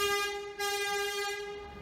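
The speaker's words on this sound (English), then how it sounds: "the squat train sliding to a stop beside him" Squat train in the Trainz game sliding to a stop, heard as a sustained steady harmonic horn-like whine held through the whole stretch, loud and close, with no voices.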